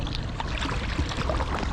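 A packraft paddles across Lake Zurich, giving continuous close splashing and water swishing with soft irregular paddle strokes and no voices.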